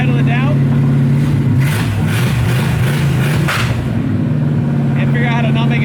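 An abandoned Chevrolet El Camino's engine runs loud and rough, revving up and falling back to a steady rumble, while a person talks over it.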